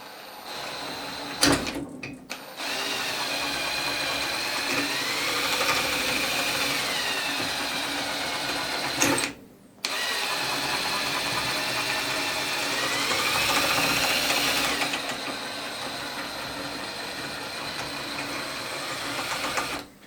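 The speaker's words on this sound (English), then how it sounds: "what you actually want to get is a circular motion going on with the drill" A power drill whirs steadily for long stretches, drilling in a circular motion into a trailing arm rubber bush on an Alfa Romeo 105 Series, its pitch rising and falling under load, stopping briefly twice with clicks before starting again.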